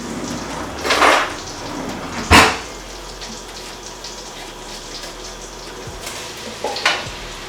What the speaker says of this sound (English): so I'm going to go ahead and add our onions in